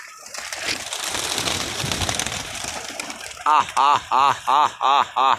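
Pigeons coming down to a rooftop loft, a clear run of six evenly spaced, close, loud cooing or wing-flutter bursts, after a stretch of busy outdoor noise and talk.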